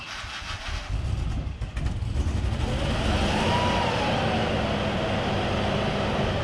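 A Range Rover engine needing some engine work rumbles steadily close by, rising slightly after a brief rough start, with no talking.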